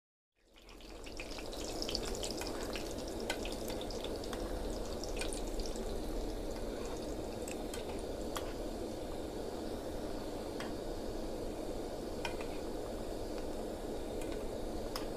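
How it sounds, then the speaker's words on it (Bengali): Bread-based sweets deep-frying in oil, giving a steady, dense bubbling hiss that holds evenly from start to finish, with a few faint clicks and ticks scattered over it and no voices. "তো এভাবেই আমি মিষ্টিগുলোকে ভেজে"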